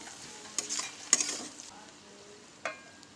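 Chow mein noodles and vegetables being stir-fried in a pan, with a few sharp scraping stirs and a light sizzle underneath, close and fairly quiet, with no talking.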